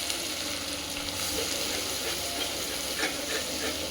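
Ginger garlic paste and masala sizzle in a hot pan, a dense continuous frying hiss with faint stirring scrapes, close and steady for the whole stretch.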